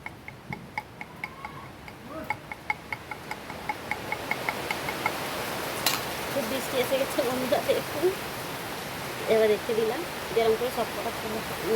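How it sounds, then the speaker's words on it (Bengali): Dense, steady hiss of heavy rain, with regular ticking early on and a voice talking over the downpour later. "আপনারা দেখুন খুব বৃষ্টি পড়ছে দেখেন বৃষ্টি এসছে একদম"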